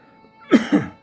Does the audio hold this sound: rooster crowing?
no